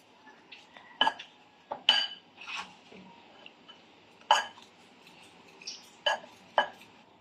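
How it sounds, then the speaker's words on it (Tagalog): A spoon or utensil stirs a flour batter in a metal bowl, producing a series of separate clinks and scrapes against the sides with short pauses between them, close and fairly clear. "Ngayon, haluin natin"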